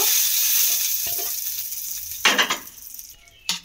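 Hot tadka spice tempering poured into a bowl of chutney gives a soft, steady sizzle, with two brief louder crackling bursts as the oil hits.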